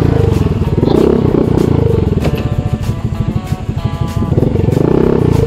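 A motorcycle engine drones loudly and close on a narrow riverside path in Indang, Cavite, with a throbbing, uneven rumble and clattering throughout.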